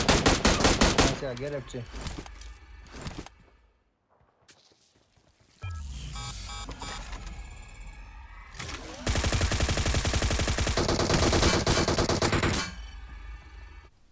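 Gunfire in the mobile battle-royale game PUBG Mobile: a sharp rapid burst opens, then a quiet gap, then sustained dense automatic fire lasting several seconds, loud and close, with a voice speaking over parts of it.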